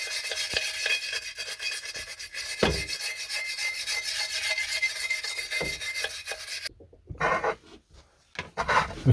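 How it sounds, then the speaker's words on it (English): Coarse wire wool scrubbed with detergent over vintage socket set cases, a steady close rasping rub that carries on without a break, then turns into a few shorter, choppier strokes near the end. "I'm just using a detergent and some coarse wire wool"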